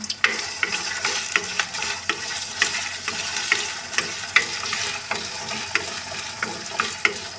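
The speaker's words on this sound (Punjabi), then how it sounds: "ਸਭ ਤੋਂ ਪਹਿਲਾਂ ਹਲਕਾ ਜਿਹਾ ਆਲੂਆਂ ਨੂੰ ਭੁੰਨ ਲਵਾਂਗੇ" Potatoes fry in mustard oil in an iron wok, giving a loud, dense sizzle with frequent crackles and rhythmic stirring scrapes close by.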